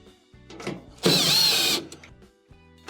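A power drill whirs in one sustained burst of under a second, loud and close, backing Phillips screws out of a dryer door catch, with quieter handling clicks before and after.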